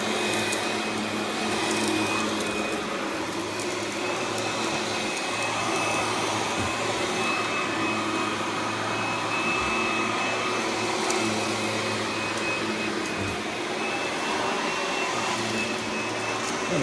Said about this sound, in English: What a nice vacuum, huh? Nice and lightweight.